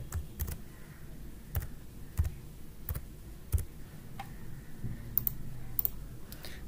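Steady clicking of keys on a computer keyboard, irregular taps at close range over a low background hum, with no talking.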